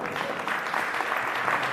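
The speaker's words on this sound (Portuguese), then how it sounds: "Vocês podem aplaudir o Senhor?" A church congregation applauds in a steady, dense wash of clapping, with a faint voice mixed under it.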